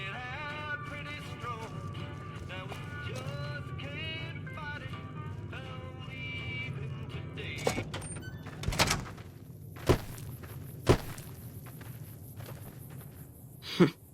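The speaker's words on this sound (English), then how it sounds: "Heard your footsteps coming up the ramp." Footsteps come up a ramp in Fallout New Vegas: a handful of spaced, fairly close thuds emerge late over a murky ambient and music bed, with no talking.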